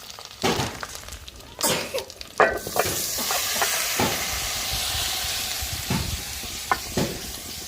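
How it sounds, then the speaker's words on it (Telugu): Half-fried fish in a pan with chopped onions, green chillies and tomatoes added, sizzling steadily with sharp stirring scrapes and bursts of hissing, loud and close. "చేపలు అయితే సగం పాటు వేగినాయి కదండి కట్ చేసి పెట్టుకున్న ఉల్లిపాయ పచ్చిమిర్చి టమాటాలు మొత్తం వేసేసుకున్నాం"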